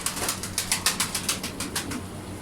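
Rapid rhythmic flapping of bird wings, a series of soft fluttering beats close by, fading toward the end.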